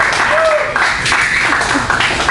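Audience applause follows a joke during a comedy headline set, a loud, even wash of clapping from a crowd with a voice faintly heard through it.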